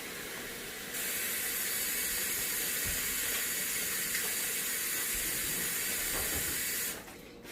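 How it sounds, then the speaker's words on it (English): Water running from a kitchen tap while hands are washed after handling raw fish, a steady close rushing splash that starts abruptly, holds for several seconds and then cuts off. "So I'm going to wash my hands over here."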